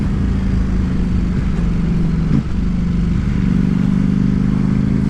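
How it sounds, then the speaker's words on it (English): Ducati Panigale V4 S sport bike on the road, engine droning loud and steady with wind rush, and a single brief exhaust pop midway as it downshifts. "That's a little pop on the down change."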